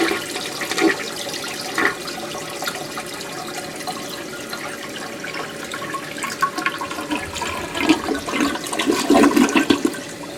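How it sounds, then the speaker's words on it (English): An old American Standard high-volume toilet flushing in a 1926 house basement, a steady rushing gush of water that swells and churns for the whole stretch, with gurgling surges near the end. "there is an old American standard many gallon per flush toilet"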